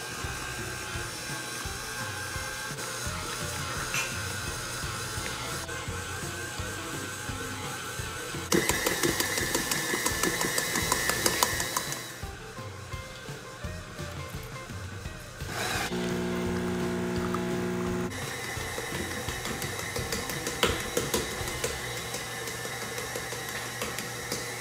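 A stand mixer kneads whole wheat sourdough dough at high speed, a steady loud motor whir and rattle running throughout, its pitch and intensity shifting a few times.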